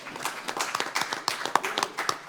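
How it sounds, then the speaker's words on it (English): An audience at a resilience summit applauds the speakers and presenters with a steady patter of hand claps of moderate loudness, sustained for a couple of seconds, with a faint voice underneath. "If we can give them a round of applause."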